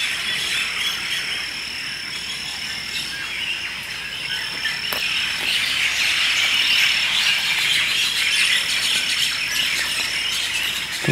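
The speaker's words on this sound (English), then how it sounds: "A lot of birds over there." Dense, continuous high chirping of birds outdoors in lower Puna, Hawaii, in the Leilani lava zone, layered with insect-like trilling that holds steady and slightly swells throughout.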